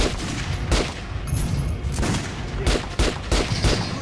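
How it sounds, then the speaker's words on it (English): Rapid bursts of gunfire hit training dummies on a firing range in Metro Last Light Redux, with loud, closely spaced shots repeating through the stretch and no talk. "Try out the rest of the weapons you got. Try shooting the center of the regular dummy's chest."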